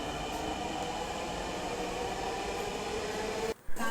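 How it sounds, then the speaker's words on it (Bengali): A metro train arrives at an elevated station in Bangladesh with a steady, loud, broad rumble and rail noise. It continues without a break until a brief dropout near the end. "উপরে অলরেডি একটা মেট্রো ট্রেন চলে আসছে"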